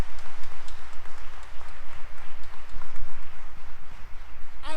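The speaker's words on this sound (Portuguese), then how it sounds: "Aplaude com força." Church audience clapping at a sermon, a rhythmic pulsing burst of applause that keeps up throughout, fairly close, with a short voice at the very end.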